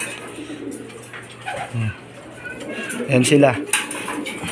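Homing pigeons coo softly in low, rolling calls, with a few other bird sounds and a brief spoken remark nearby.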